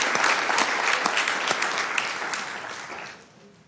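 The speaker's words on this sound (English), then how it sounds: "Okay, round of applause one more time." Audience at a Sacramento city council meeting applauds steadily for a few seconds, a dense, even clatter of clapping that thins and fades toward the end.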